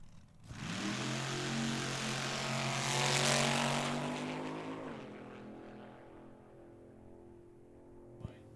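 Fuel altered drag racing cars warm up their engines at Tucson Dragway in a loud, blaring roar that swells, peaks and then slowly fades, with a short sharp crack near the end.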